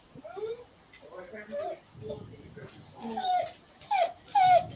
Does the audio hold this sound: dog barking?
yes